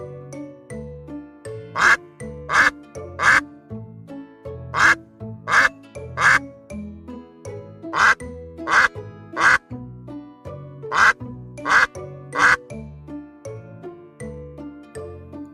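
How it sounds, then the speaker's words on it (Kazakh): A duck gives loud, close quacks in quick bursts of two or three, repeated in a regular rhythm over light background music. "Бұл үйрек. Үйрек кря-кря-кря-кря-кря-кря, кря-кря-кря-кря-кря-кря дейді."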